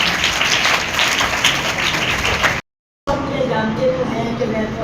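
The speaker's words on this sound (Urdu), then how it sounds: "خداوند کے لیے زوردار تالیاں بجائیں گے" Loud, sustained applause from a church congregation fills the space, steady and dense before a brief cut, then continuing with voices mixed into the clapping.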